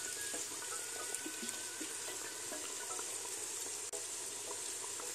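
Chebureki pastries sizzling in hot oil, a steady hissing crackle with scattered pops and bubbling, fairly quiet and close, with no talk.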